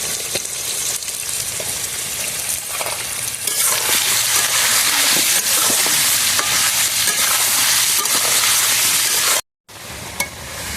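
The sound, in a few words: potatoes frying in a pan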